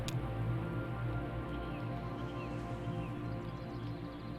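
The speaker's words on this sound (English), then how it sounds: "Bree and Elmo worked until it started to rain. The rain washed their sweat into the dirt." Steady rain falls in the video game Kentucky Route Zero, a dense, even patter of drops that holds at a constant level throughout with no voices.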